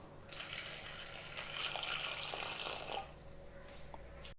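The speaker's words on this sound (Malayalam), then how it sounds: "കുറച്ച് വെള്ളം ഒഴിക്കാം." Water pours into a pot of washed, cut bananas set on a stove for boiling, a steady close splashing rush that runs about two and a half seconds before tapering off.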